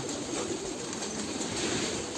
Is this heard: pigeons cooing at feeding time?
yes